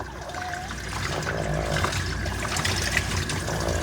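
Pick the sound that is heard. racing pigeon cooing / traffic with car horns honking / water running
water running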